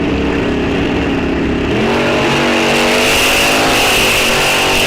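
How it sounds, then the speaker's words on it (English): A Camaro and a Mustang at a drag strip, engines revving loudly and steadily, pitch climbing and holding as they build revs close by, with a sharp rise in engine note partway through and no talking. "Camaro versus Mustang."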